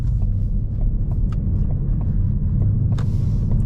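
A 10-speed Ford Mustang GT pulls away in drive, its engine a steady deep rumble heard from inside the car, with faint clicks and a brief rush of higher noise near the end; no talking.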